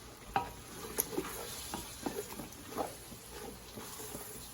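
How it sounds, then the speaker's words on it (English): A spoon stirring one-pot chili mac with tomato sauce, with soft, faint scrapes and gentle sizzling in a pot, a few light clicks scattered through. "We're going to give that a little stir."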